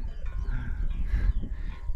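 A flock of sheep grazes on a mountain meadow in the Pyrenees, giving a few short bleat-like calls at moderate distance over a low, rumbling outdoor background.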